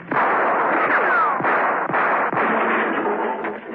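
Several sharp gunshots crack out in an audio drama set at night in a London mews, standing out as distinct bangs over a dense, sustained background of dramatic sound.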